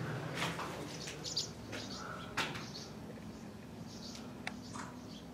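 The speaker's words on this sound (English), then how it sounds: "there's little baby chicks in that one" Baby chicks in a nest by the Salinas River give faint, high, scattered chirps and peeps in short bursts against a quiet outdoor background, with no talk.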